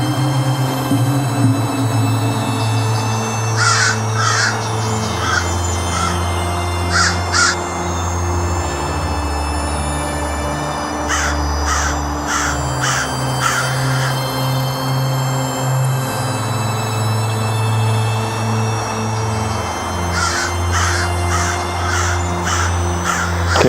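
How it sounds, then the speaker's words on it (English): Several crows caw in the distance at night on Mt. Misery, Long Island, in short bursts of two to four calls repeated across the clip over a steady low hum and rumble. "I hear the crows in the distance."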